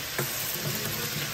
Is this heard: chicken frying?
yes